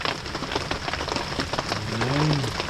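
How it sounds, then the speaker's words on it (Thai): Rain falls on the ground in a dense, steady patter, loud and close, with a faint wavering tone rising and falling near the end. "ฝนตกเนาะพื้นดินมันเปียก"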